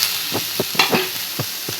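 Food frying in a pan ahead of the tomato going in, a low steady sizzle broken by about six soft scraping stirs at an uneven pace, close and alone with no talking.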